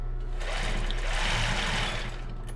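A sewing machine runs a steady whirring backstitch along the side seam of lace panties, close and continuous for a couple of seconds before tapering off slightly, with no talking.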